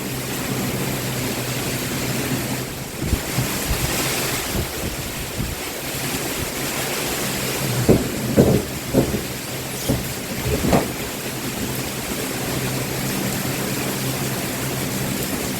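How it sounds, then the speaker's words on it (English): Strong storm wind roars and buffets a microphone outdoors, a loud, continuous rushing wash with rumbling gusts and a few sharp knocks midway, and no voices. "We are in mid-storm here."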